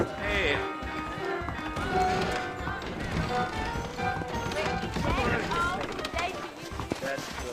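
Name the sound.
horse hooves clip-clopping in video game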